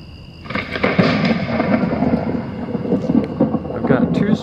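A thunder effect from a homemade lightning machine played through a guitar amp, a continuous rumbling, crackling roll with bursts of rain-like texture, loud and close throughout.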